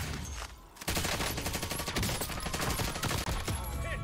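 Sustained automatic gunfire in Call of Duty Cold War Warzone on Rebirth Island, dense rattling volleys firing almost nonstop after a short pause, loud and close with game ambience behind.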